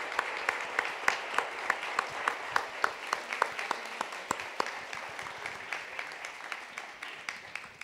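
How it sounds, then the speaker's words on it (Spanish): Audience at a forum applauding the speakers, a moderate, somewhat distant bed of clapping punctuated by regular sharp individual claps, steady throughout and tapering slightly near the end. "Señoras, señores, un aplauso grande para estos muchachos,"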